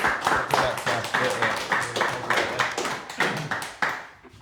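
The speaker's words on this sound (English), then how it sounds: "Give her a round of applause." A small live whisky podcast audience in Leith gives a guest a round of applause, close, uneven clapping from a few hands with irregular bursts that tapers off.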